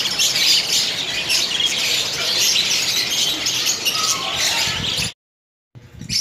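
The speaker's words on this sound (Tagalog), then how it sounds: "Napakaraming parakit po rito." A dense chorus of many parakeets chirping and squawking nonstop, close and loud, breaking off suddenly near the end.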